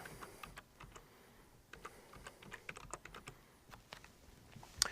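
Typing on a computer keyboard while entering text into an online survey form, with an irregular run of close, crisp key taps and a sharper click near the end, heard alone without speech.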